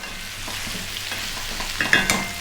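Chunky, skin-on sweet potato pieces go into a hot pan with vegetables for a crumble, giving a steady close sizzle with scraping stirs that grow louder and busier toward the end.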